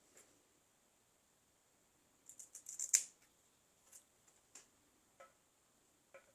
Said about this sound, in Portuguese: Tesoura.